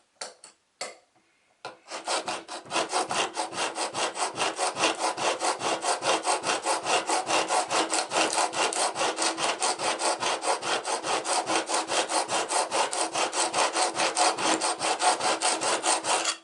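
Chisel rubbed steadily on a coarse sharpening stone: a long run of rapid, even back-and-forth rasping strokes, loud and close, after a few isolated scrapes at the start, with no talking.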